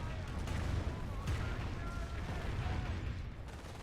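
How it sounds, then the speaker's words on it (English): Calliope rocket artillery barrage in a World War II strategy video game, a continuous dense rumble of launches and distant impacts rolling on under a commentator's voice. "Here's the Calliope barrage now opening up on the packs"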